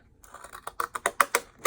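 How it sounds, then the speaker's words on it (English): A run of small crisp snips as decorative edged scissors cut around watercolor paper, quickening and growing louder, close and alone. "It's kind of hard to cut the watercolor paper."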